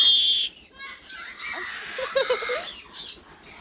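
A pet parrot squawks and shrieks in sharp bursts up close, mixed with a person talking over it indoors.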